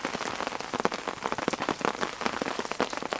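Steady heavy rain patters densely on a hard surface at a campsite, a continuous crackle of drops with no voices.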